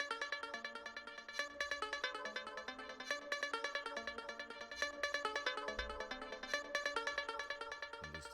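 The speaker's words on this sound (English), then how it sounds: "added a little like vocal chop" Vocal chop in a hyperpop beat, bright stuttering pitched fragments riding over a busy synth bed at a steady rhythmic pulse, fairly quiet and without talking.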